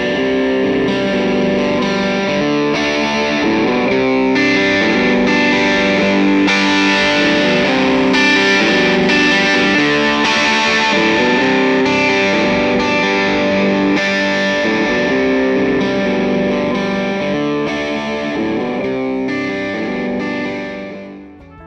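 A distorted electric guitar through an amplifier, miked close to the speaker axis, plays chords with effects, bright and sustained and loud, fading at the end.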